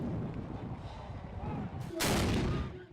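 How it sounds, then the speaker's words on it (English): At a university Huskies football game, a howitzer cannon fires a single sharp, loud boom partway through, cutting over a low rumble of stadium crowd noise. "The boom of the howitzer cannon."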